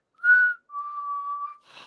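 A person imitates a loud whistle with their voice: a short burst, a long steady tone, then a brief breathy trailing note.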